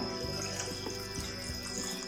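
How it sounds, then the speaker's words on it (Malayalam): Water runs steadily into a pressure cooker holding washed jackfruit seeds, a soft, continuous splashing gurgle, close by, with no talking. "വെള്ളം ഒഴിക്കണു."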